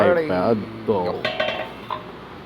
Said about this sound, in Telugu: అంతే, మూత పెట్టుకోవాలి.